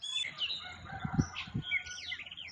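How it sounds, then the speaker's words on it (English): Faint rooster crowing off in the distance, thin and wavering, mixed with chirping birds over a low background rumble. "Somebody's got a rooster."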